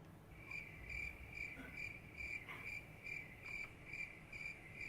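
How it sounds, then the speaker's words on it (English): Crickets chirp in a steady rhythmic pulse, short repeated trills about twice a second, faint and alone with a soft background hiss. "Crickets."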